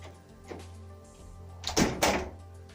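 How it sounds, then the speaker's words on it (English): A house front door is opened on the way inside, giving a couple of close thuds and clunks in a quiet hallway. "So this is my front door."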